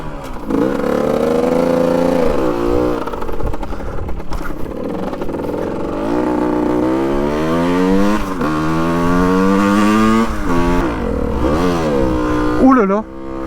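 A small Yamaha 50cc motorcycle under restoration revs hard in first gear, its buzzing engine tone sweeping up and down repeatedly and loud and close, with a voice talking over it.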